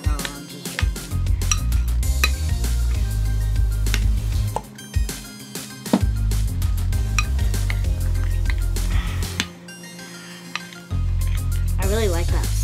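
Glow-in-the-dark slime being stirred with activator in a bowl, a steady stream of scraping, clinking and tapping from the mixing utensil, close and fairly loud, with continuous background music and brief gaps.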